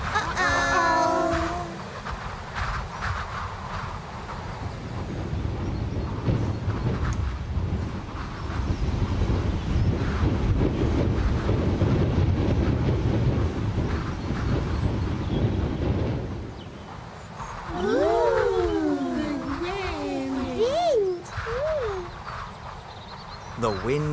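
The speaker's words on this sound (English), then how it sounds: "all the Teletubbies were very busy when a big wind blew." A big gust of wind from the children's TV show Teletubbies builds into a loud, broad roar that lasts about ten seconds mid-clip, framed by whistly, sliding tonal sounds before and after.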